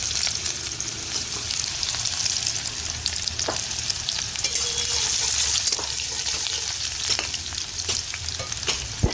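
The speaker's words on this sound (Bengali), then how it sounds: "এবার পেঁয়াজগুলো দিয়ে দিই।" Onions hiss and sputter loudly in hot oil sweetened with a little sugar, a dense, steady frying crackle close up, with faint scraping from stirring.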